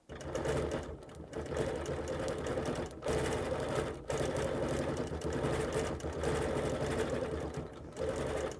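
A sewing machine quilting words onto fabric runs in steady rapid bursts, its fast rhythmic stitching stopping briefly between runs, close and fairly quiet with no talk.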